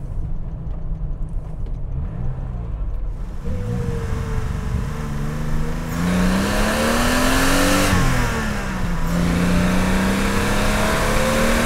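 A BMW E9 3.0 CSi, a 50-year-old classic coupé, accelerates hard with a loud, rising engine note climbing through the gears, swelling from a quieter start to a strong, sustained roar heard from inside the car.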